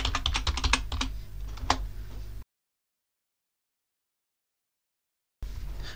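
A password being typed on a computer keyboard: a quick run of close, crisp keystrokes, then a few more spaced taps, followed by a stretch of complete silence before the background resumes.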